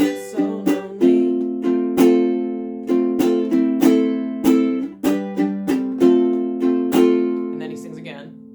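Ukulele plays the instrumental line from a song, with bright plucked and strummed notes in a bouncy, uneven rhythm, each attack ringing out, close and loud with no voice.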